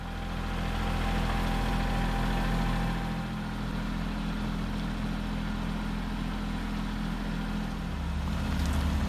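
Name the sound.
tractor engine while moving a heavy pallet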